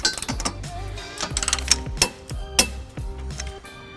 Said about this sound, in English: So we're going to use an 18mm socket with a 5-inch extension